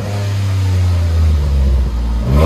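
A 2007 Dodge Nitro 4.0L V6 with a Black Widow race exhaust in place of the muffler revs loud and close, a deep raspy roar that holds and then climbs at the end.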